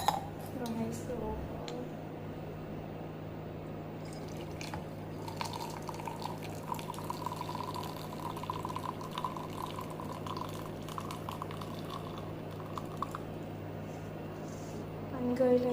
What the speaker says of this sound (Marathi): आपण ह्याचं पाणी घेते काढून